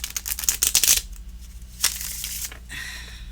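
A Lo Scarabeo tarot deck in a small box shuffled roughly by hand, with close, crisp riffling bursts, a pause, then another short shuffle and softer card rustling.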